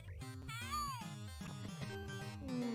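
A cat in the video game Pistol Daimyo meows several times in quick, rising and falling calls, close and clear, with a voice briefly speaking.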